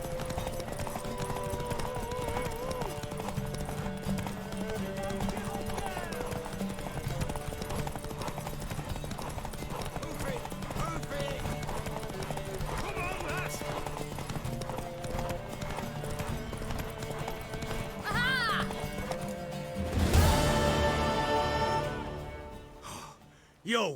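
Horse hooves clip-clop steadily through a video game scene, a continuous rhythmic stepping under game music and ambient sound, with a brief louder burst near the end.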